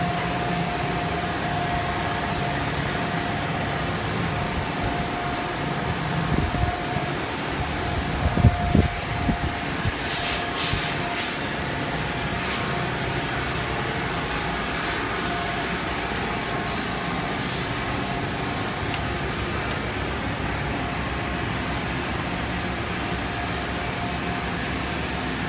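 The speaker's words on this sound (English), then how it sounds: "Spraying work is going on, which with epoxy." Epoxy is sprayed onto a 40-foot wooden dhow sailing boat, giving a steady, continuous hiss with machine-like hum throughout and no talking.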